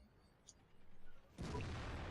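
A tank cannon shot in a video game: a sudden heavy boom hits midway and rolls into a loud, sustained rumble, following quieter low background noise.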